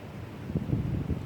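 Wind buffets outdoors during a yoga session, a low rumbling gusty roar against the microphone that swells and eases in short bursts, fairly loud and steady with no voices.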